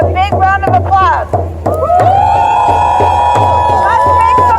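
A Montreal rally crowd gathered for the Wet'suwet'en Nation cheers and whoops loudly, with rhythmic clapping and drum-like thumps beneath sustained high shouts and yells close by.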